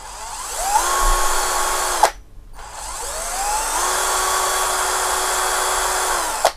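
Cordless Asteel impact drill running with a variable speed trigger, a loud close whine that rises in pitch as the trigger is squeezed, holds steady, stops briefly, then spins up again and runs on.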